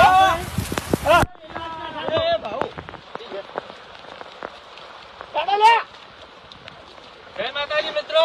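Steady rain falls as a continuous broadband hiss throughout, moderately loud, with people talking over it in several stretches.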